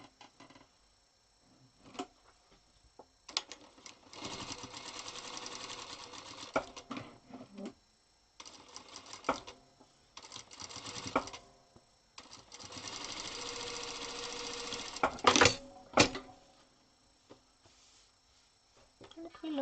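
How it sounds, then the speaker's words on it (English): Sewing machine stitching down a pressed quilt block for a beginner's hunters star quilt, running in several bursts of steady rapid needle chatter separated by short pauses, close and moderately loud. "So now I will press it and I will sew it down on the top."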